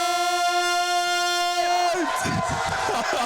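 A crowd at a college esports Valorant championship event cheers and shouts after a sustained tone cuts off, loud and close, with excited voices rising together.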